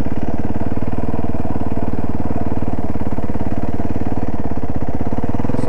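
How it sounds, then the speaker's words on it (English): A motorcycle engine idles steadily, loud and close, with a fast even pulsing beat and no talk over it. "So now I know what the motor sounds like"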